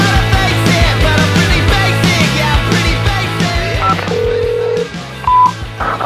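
Touch-tone dialing beeps and ringback tones of an outgoing phone call that ends at voicemail, sounding loud and close over a dense music bed, with a steady tone near the end and a short beep after it.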